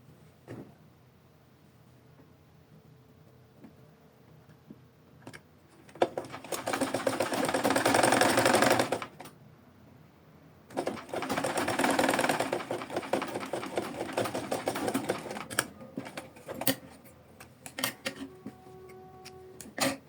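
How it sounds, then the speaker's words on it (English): A sewing machine stitches a necktie in two long, loud bursts of rapid mechanical stitching, with short stop-start runs and quieter pauses between them. "Then you sew again to this point."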